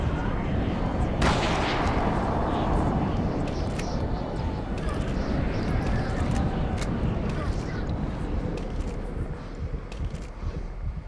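Gunfire in Call of Cthulhu: Dark Corners of the Earth, with a sharp shot near the start and dense, rumbling combat noise that stays loud the whole way through.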